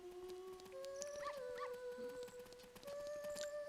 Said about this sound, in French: Il y a plein de chiens ici